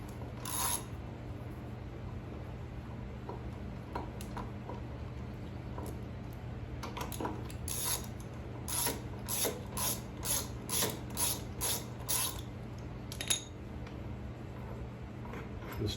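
Quarter-inch ratchet with a 10 mm 12-point socket working the front brake caliper bolts on a 2001 Harley-Davidson Electra Glide, quick bursts of clicking pawl strokes, close and crisp, separated by pauses and a low hum.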